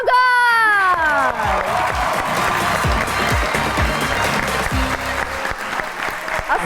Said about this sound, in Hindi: आप सबकी तालियों में तशरीफ़ लाते हैं आप सबके फेवरेट